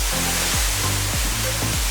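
Roaring waterfall near Lake Toba, water crashing onto big rocks in a steady, dense broadband rush with a low rumbling churn, loud and close, with no voices.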